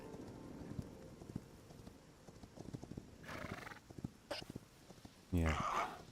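A horse in the Hytale video game walks with steady clip-clopping hooves at close range, then gives a loud whinny near the end, with speech in the background.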